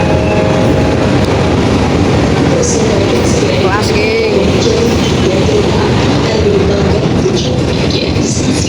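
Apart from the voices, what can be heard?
CC 206 locomotive at Cipinang depot, train sounds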